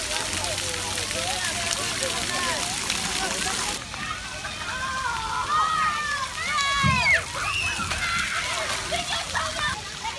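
Water splashes and sprays continuously at an outdoor splash park at Watsessing Park in Bloomfield, New Jersey, with children's voices and chatter mixed throughout and a louder burst of activity partway through.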